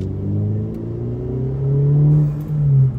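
A Mercedes accelerates in race mode, its engine drone climbing steadily in pitch and swelling louder over a few seconds, heard close with no talking.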